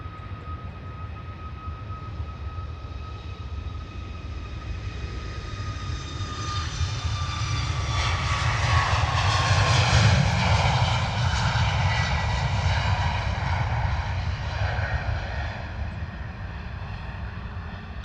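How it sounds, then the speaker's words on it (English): A Ryanair Boeing 737 taking off from London Stansted on a clear day, its jet engines swelling from a whining hum to a loud, near roar with rising tonal whine, then easing slightly as it climbs away. "There is a Ryanair Boeing 737 taking off"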